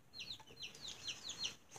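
Baby chicks peep in quick, high, faint chirps, several in a row at close range with no talk.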